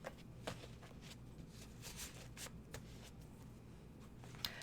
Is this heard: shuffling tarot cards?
yes